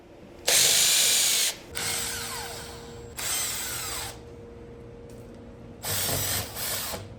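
A power drill runs in three separate bursts to remove an old vinyl fence gate stop handle, each whirring spell lasting about a second, loud and close, with quieter mechanical clicks and handling between them.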